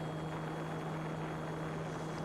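An Eachine E190S GPS military-scale RC helicopter hovers nearby in low rate, its small rotor and motor giving a steady, even whirring buzz with a constant tone throughout, and no voices present.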